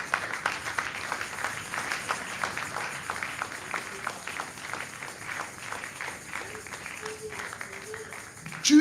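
A church congregation applauds the Lord: moderate, fairly rhythmic clapping runs throughout with crowd voices beneath, ending in a brief louder burst.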